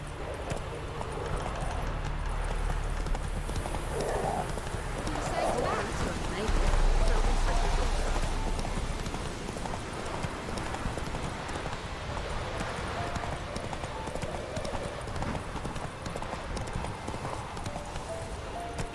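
Roach, the horse in The Witcher 3, gallops with continuous rapid hoofbeats, mixed with game ambience and occasional speech.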